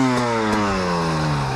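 A KTM 300 TPI dirt bike engine, stock exhaust, idles steadily after an electric start with a low, even harmonic drone, its pitch easing slightly downward, close and fairly loud with no voices.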